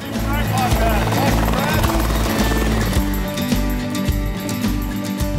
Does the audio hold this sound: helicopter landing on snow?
yes